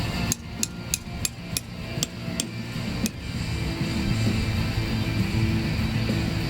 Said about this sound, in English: So that's the Mountain Safety Research tent stake hammer and the Mountain Safety Research groundhog stakes